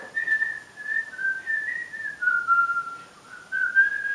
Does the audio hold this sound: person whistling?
yes